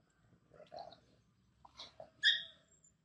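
A playful dog lets out a few soft, high whimpers and whines in short bursts, the last one louder and drawn out, over a quiet background.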